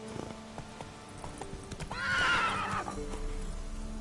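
Roach the horse trotting in The Witcher 3, steady clip-clop hoofbeats running throughout with a loud neigh rising in the middle, close and clear without talk.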